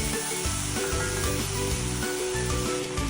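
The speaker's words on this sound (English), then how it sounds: "Distribute it evenly around the meat and saute it for a couple of minutes till it's softened" Celery and crushed garlic sizzle in a pot around a pork roast, a loud, steady hiss of frying that fills the whole stretch with soft stirring underneath and no voices.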